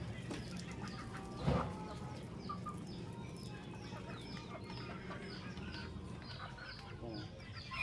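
Young native-bred chickens around four months old, still chick-like, clucking and chirping in short scattered calls over steady yard noise, with one louder burst near the start; no talk.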